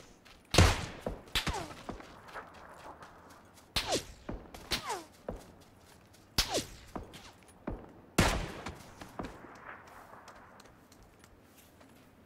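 Sharp gunshots ring out in a first-person shooter game, several spaced single cracks and short bursts with echoing tails, moderately loud against a quiet background.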